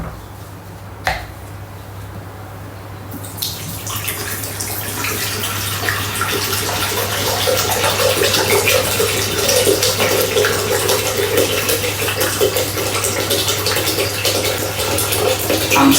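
Water poured into a Thermomix TM7 bowl to steam baby potatoes, one litre in all: a sharp clink, then a steady hissing, splashing stream that grows fuller as the bowl fills, over a constant low appliance hum.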